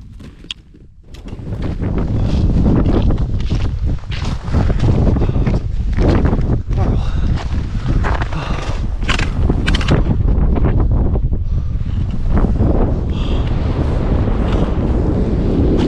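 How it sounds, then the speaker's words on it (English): Strong wind gusts roar across the exposed summit of Great Calva fell, buffeting the microphone in a steady, loud rush with no let-up for the whole stretch. "Oh, wind picked up as well. Wow, that wind chill."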